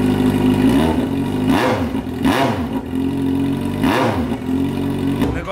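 A Yamaha XJ6 motorcycle engine with engine trouble idles nearby and is revved several times, each throttle blip rising and falling in a quick surge over a steady low chug.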